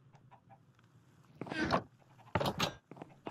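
A Minecraft chicken gives short clucks in a dungeon setting, two louder bursts standing out over faint background blips.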